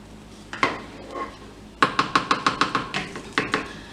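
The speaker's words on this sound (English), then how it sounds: "And you just want to chop up your strawberries." A knife chops fresh strawberries on a cutting board in a home kitchen for a strawberry glaze: a few scattered taps, then a quick, even run of about nine sharp, close chops.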